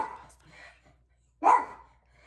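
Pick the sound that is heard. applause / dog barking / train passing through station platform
dog barking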